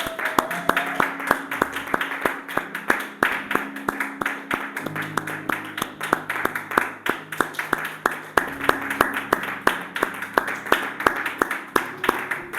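A church congregation claps in a fast, steady rhythm close by, with sustained musical tones underneath and no clear speech.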